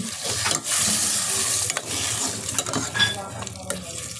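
Adobo is being stirred in a pan after marinating, a steady sizzle with scraping and clinking of a utensil against metal, fairly close and continuous.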